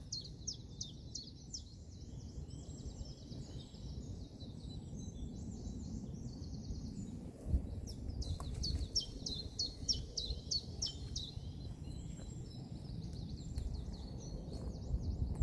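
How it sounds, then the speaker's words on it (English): Several birds chirp and trill in quick, repeated phrases at a moderate distance beside a village fishing pool in spring, over a low outdoor rumble, with no talking. "especially as spring is waking up and the birds are singing"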